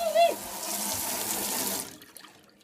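Water runs steadily from an open kitchen sink faucet in a cabin, a loud continuous rush that cuts off abruptly near the end as the tap is shut, leaving quiet afterward.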